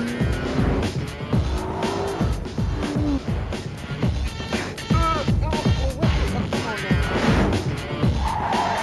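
Car in a comedy skit pulling away with squealing tires, sharp screeches over engine noise, mixed with people talking throughout.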